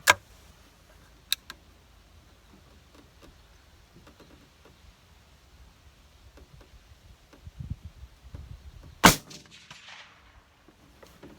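Shots from a CVA Hunter rifle at an outdoor range: a sharp loud crack at the start and another near 1.3 s, then a big blast around 9 s with a brief trailing echo, separated by quiet outdoor background.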